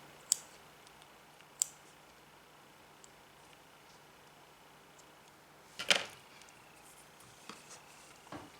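Scissors snip off a crochet yarn end while making a scrunchie, giving a few faint, sharp clicks spread across a quiet background, with a louder cluster of snips near the end.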